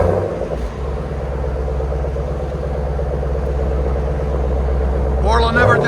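A 2020 Jeep Grand Cherokee SRT with a 6.4L HEMI V8 and Borla Atak cat-back exhaust idles with a deep, steady, loud rumble close by, barely given gas, while voices talk over it.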